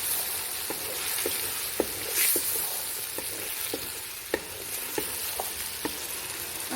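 Potatoes and spices stirred in a pan for potato pulao make a soft, continuous sizzle, with regular scraping clicks from the stirring spoon every half second or so.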